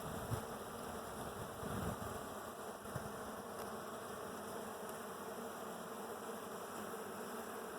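Honeybees buzz in a dense, steady drone throughout a beehive inspection at Delimont Acres, close and continuous, with faint handling noises from moving frames.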